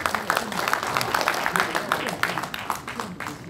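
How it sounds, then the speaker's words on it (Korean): Guests at a football association inauguration ceremony in Ansan give dense, lively applause that carries on throughout, close and full with a crowd murmur underneath. "힘차 박수 부탁드리겠습니다."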